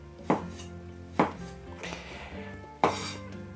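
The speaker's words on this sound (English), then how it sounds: "I'm chopping some tomatoes," Knife chopping tomatoes on a board in a home kitchen: three or four sharp, close cuts at an uneven pace, with quiet gaps between them and no talking.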